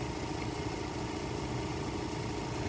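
A van's engine idles with a steady, low rumble without a break, even and unchanging throughout, with no voices.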